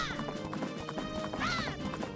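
Rhythmic clip-clop of galloping horse hooves in The Legend of Zelda: Majora's Mask, with game music and effects playing underneath, fairly loud and continuous.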